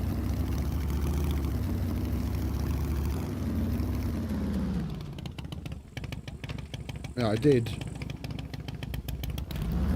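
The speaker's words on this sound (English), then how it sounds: "There's someone on a motorcycle." A motorcycle engine in the video game SCUM, a low droning hum that fades and roughens into a rattling, sputtering engine sound, with a brief voice speaking over it midway.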